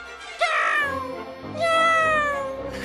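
A voice imitates a cat, giving two drawn-out, high meows one after the other, loud and close.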